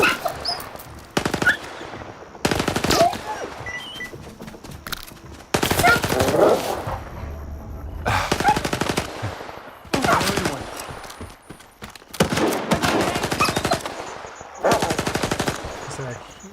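Bursts of automatic machine gun fire in the STALKER 2 video game, loud repeated volleys of a second or two separated by short pauses, with faint sounds in between.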